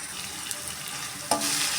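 Oyster mushrooms sauté in hot oil with a steady, close sizzle and crackle throughout, and a sharper burst of spitting near the end.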